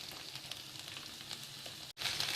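Beef undercut steak frying in a pan, a steady close sizzle with faint crackles throughout, briefly cutting out near the end before resuming louder.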